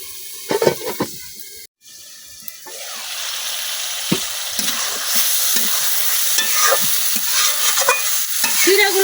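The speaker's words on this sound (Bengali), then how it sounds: "এখন ডাইকে ক্ষীরা কিছুক্ষণ কষাই নিলাম" Cucumber pieces stir-fried in a pan in a village kitchen: a few scraping knocks of the spatula at the start, then a rising, continuous sizzle with intermittent stirring scrapes.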